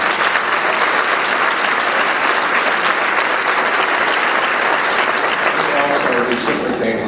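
Sustained, loud applause from a large summit audience following a speech by a New York City mayor, a dense, even roar of clapping with some voices mixed in.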